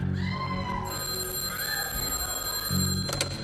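A telephone rings in a film scene, its bell trilling clearly over a low background hum, then breaking off near the end.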